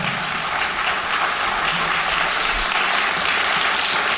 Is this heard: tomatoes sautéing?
no